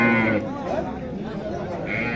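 A calf beside its cow at a cattle market gives a drawn-out bleating call that returns at the end, over crowded market chatter and nearby talk.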